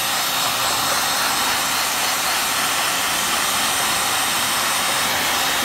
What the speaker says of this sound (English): I'm pretty sure I'm going to use my hair dryer